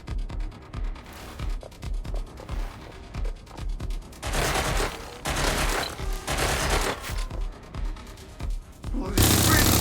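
Sustained gunfire in the video game Watch Dogs Legion, rapid bursts and volleys cracking close and loud, building into heavy overlapping fire with a roaring explosion-like blast at the end; voices shout faintly beneath.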